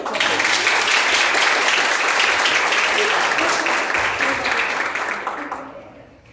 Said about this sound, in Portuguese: Pessoal, palmas para ela.